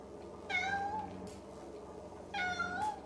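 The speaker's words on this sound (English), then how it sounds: "A lean, white, very dirty cat was sitting on the cistern cover outside my window." A lean, white, very dirty cat sitting on a cistern cover outside a window gives two clear, drawn-out meows about two seconds apart, moderately close against a quiet background.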